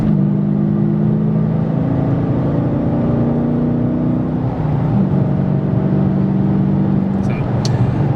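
A 2016 Dodge Challenger R/T with the 5.7 V8 and Magnaflow exhaust accelerating, heard from the cabin as a steady, deep droning engine note whose pitch climbs gradually before a brief dip and recovery.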